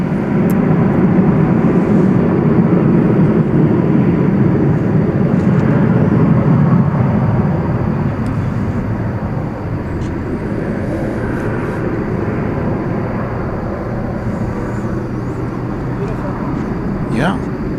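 American Airlines airliner taking off at DFW Airport at night, a steady broad engine roar heard from a distance that holds level throughout, with people talking over it.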